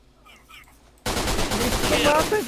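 Gunfire in the shooter game Line of Sight breaks out suddenly after a quiet moment and then runs as loud, rapid bursts of shots.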